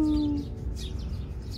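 Faint bird chirps and tweets outdoors at a beach around sunrise, a few short calls scattered over a low background hum.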